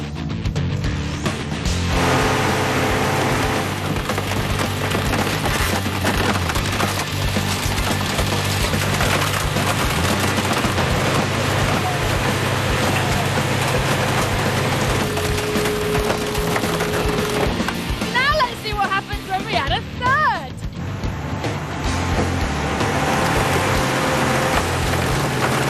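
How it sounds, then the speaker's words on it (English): A hydraulic car crusher at an auto wreckers' yard flattens a car under massive force, producing loud, continuous crunching, splintering and popping of metal and glass with a steady mechanical roar throughout. "It takes just 1 minute to turn a car into a metal pancake."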